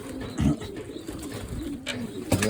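Young pigeons ready to fly coo softly in a loft, two short throaty calls about two seconds apart over a faint background hum, no voices.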